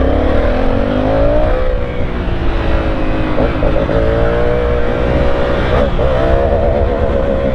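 A motorcycle ridden on a city road accelerates loudly up close, its engine note climbing and falling through gear changes with a steady rumbling drone throughout.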